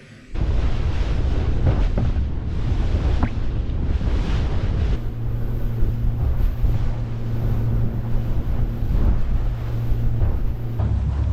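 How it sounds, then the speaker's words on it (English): Boat running down the coast through lumpy seas: constant loud roar of engine, hull slapping water and wind buffeting the microphone, a steady low engine hum underneath, no voices. "that was a lumpy old run down the coast"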